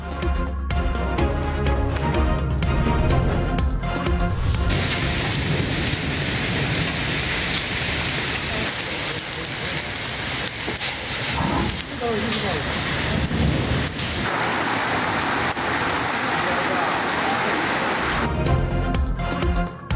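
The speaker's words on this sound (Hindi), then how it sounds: "मरी में तेज़ हवाओं के साथ मूसलाधार बारिश" Steady roar of heavy rainfall with strong winds in Murree, Pakistan, dense and continuous, with music or an announcer's voice at the start and end.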